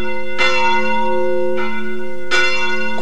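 Large church bell in the bell tower of Pisa's cathedral, struck three times in slow succession, each loud, ringing stroke decaying into a sustained hum with no voices.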